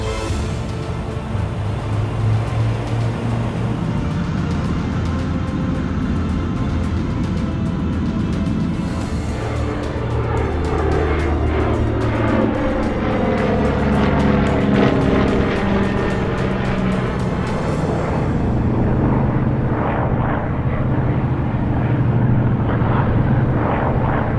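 An Avenger warbird taxis at an airshow at Temora Aviation Museum, its piston engine a loud, steady rumbling drone with a propeller throb that holds throughout and wavers slightly as it moves.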